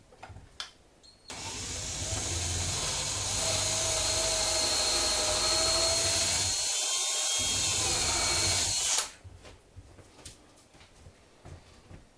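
A drill with a large bit spins up and bores through a wooden rifle stock in one continuous loud run, slowing briefly before cutting out, with quiet handling noises before and after.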